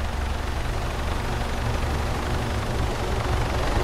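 Helicopter taxiing in ARMA 3, a loud, close, steady rotor and turbine roar with constant rhythmic thumping throughout.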